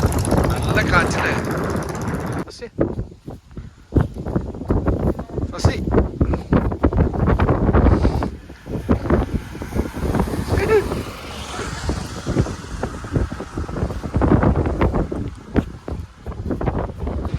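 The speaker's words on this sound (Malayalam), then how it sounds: "നല്ല കാറ്റില്ലേ?" Strong wind blusters at night during rain, roaring and buffeting the microphone in loud, uneven gusts throughout, while people talk over it.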